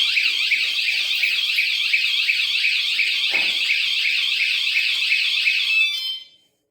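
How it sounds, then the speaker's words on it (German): A Fosmon bicycle alarm sounds its warning tone, a loud, shrill, rapidly warbling electronic beep that holds steady for about six seconds before cutting off abruptly. "Gibt es erstmal so einen Warnton, wenn ich das erste Mal berühre."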